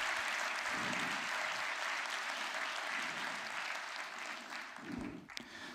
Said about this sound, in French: Donc merci, applaudissez.